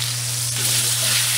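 A seared prime rib steak, cooked sous vide, hisses loudly in a hot pan right after it is flipped. The sizzle is a close, dense, steady hiss with faint crackles, and a low hum runs underneath.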